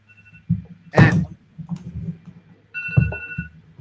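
A mobile phone's ringtone sounds briefly at the start and again near the end, a thin electronic tone mixed with thumps and knocks during a community meeting.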